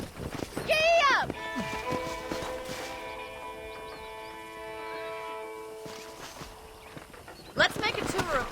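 A horse in the Red Dead Redemption game sets off after a rider's command, its hooves clopping rhythmically at a near distance under background music, with voices talking at the start and end.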